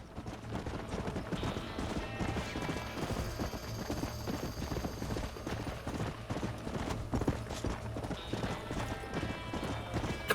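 Rapid horse hoofbeats gallop steadily throughout a Red Dead Redemption chase after a runaway stallion, a whinny or two rising over the drumming clip-clop, with dense game ambience underneath and no talking.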